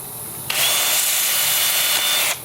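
Olive wood spinning on a lathe at about 400 RPM with a sanding disc pressed against it, giving a loud, steady broadband grinding hiss for roughly two seconds that starts and stops abruptly over a quiet background.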